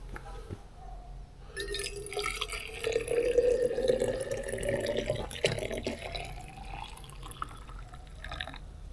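Water in a pot nears a boil at a campsite in Sang Run State Park, a close, steady bubbling and hissing that swells in the middle before settling into a softer simmer.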